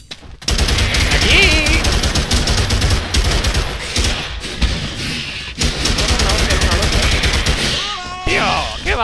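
Rapid automatic gunfire in the dinosaur shooter game Primal Carnage crackles in dense, sustained bursts, loud and close, while someone talks excitedly over it.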